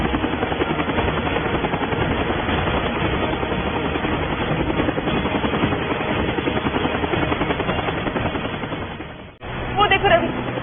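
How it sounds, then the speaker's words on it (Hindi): A loud, continuous helicopter rotor chops steadily throughout, close and dominant, briefly dipping near the end. "वो देखो रवि, हेलीकॉप्टर।"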